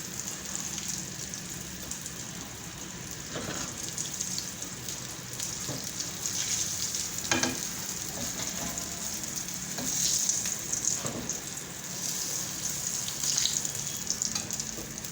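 Eggplant slices for a dry baingan masala fry in a pan with a steady, continuous sizzle and occasional crackles, close and fairly loud with no talk.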